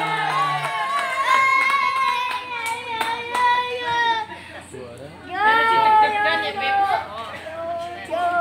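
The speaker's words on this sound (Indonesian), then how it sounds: "Tepuk tangan." Applause at a madrasa graduation trophy ceremony comes in bursts of close clapping, partly masked by loud voices and children's chatter nearby.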